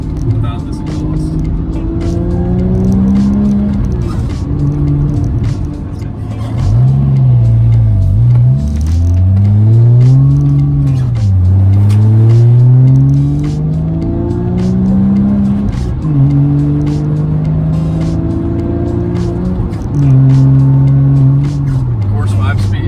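A Porsche GT3 fitted with a Fabspeed Supercup exhaust and five-speed gearbox accelerates hard, its loud engine note rising through the revs, dropping at shifts and climbing again repeatedly, close and dominant throughout with a voice talking at times.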